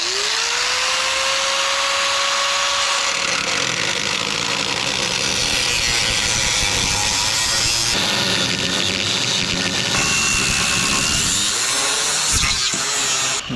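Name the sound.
cutting disc cutting through vehicle frame rail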